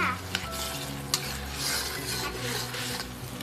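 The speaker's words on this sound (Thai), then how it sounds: "คนให้ทุกอย่างเข้ากันค่ะ" A crab stir-fry with roasted chili paste is stirred in a hot pan. Steady sizzling and frying run under repeated close scraping and clinking of a utensil against the pan.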